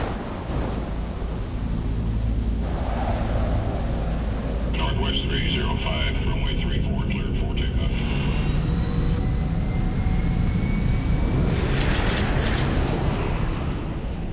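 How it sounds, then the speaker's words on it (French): A hijacked airliner refuelled and cleared to take off, with a loud, continuous engine roar and rushing rumble throughout and rising whining tones, under a narrator's voice. "L'avion est ravitaillé en carburant et autorisé à décoller."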